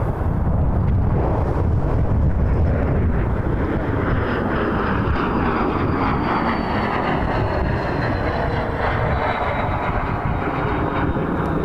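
A fixed-wing airliner takes off at Toronto Pearson airport in freezing weather, a loud, broad jet roar that stays steady and sustained throughout, mixed with wind buffeting the microphone.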